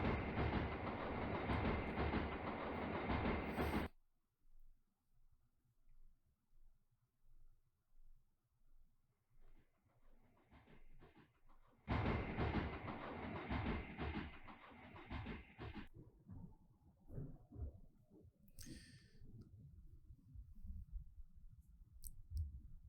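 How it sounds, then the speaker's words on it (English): Train running on rails in the video game The Silver Case: loud rhythmic clickety-clack and rumble, cutting off abruptly, then returning with steady rail clicks and a falling whine. "Seems like a waste to run a train just to move one person"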